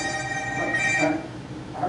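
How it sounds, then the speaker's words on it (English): A mobile phone rings during an evening Bible study, its electronic ringtone tones repeating steadily at moderate loudness for the whole stretch, with faint room murmur underneath. "It's your phone"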